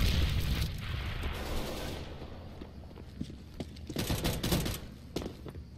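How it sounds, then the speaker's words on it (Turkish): Rapid gunfire bursts in the shooter game CS:GO during a competitive match, heard as a dense, rattling volley that tapers off briefly and then returns in a second cluster of sharp shots, with no talking over it. "O silah sesi neydi lan?"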